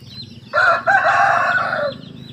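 A rooster crows loudly nearby at a chicken coop, one long drawn-out call rising and falling, with chickens softly clucking in the background.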